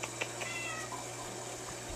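A house cat at a fish pond gives a few short, faint meows over a quiet background hum.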